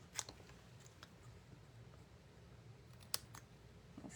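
Scissors trimming fabric for a quilt sampler: two faint, sharp snips about three seconds apart with a few small clicks between, close and quiet with no talking.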